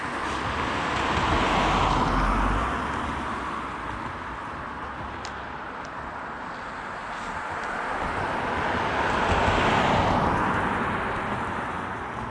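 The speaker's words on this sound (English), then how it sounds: "There's a lot of cars on the road for being so early." Steady roadway noise of cars passing in the dark early morning while walking a Labrador retriever, a broad continuous rumble that swells as vehicles approach and fade, two louder passes standing out.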